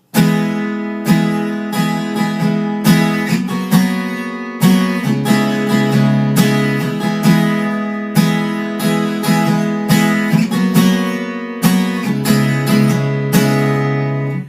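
Bright, chiming capoed acoustic guitar open chords strummed in a steady rhythm, each strum ringing out clearly, played alone without any voice.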